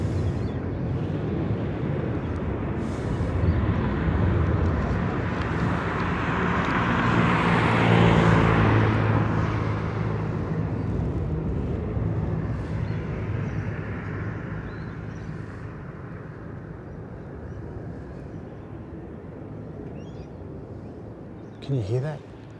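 A distant airplane at an air show drones overhead in a low rumble that swells toward the middle and then fades, mixed with wind noise outdoors.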